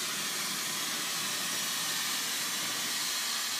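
A torch hisses steadily while fire polishing opal beads and pendants, a loud, broad, unbroken rushing roar held close the whole time with no talk.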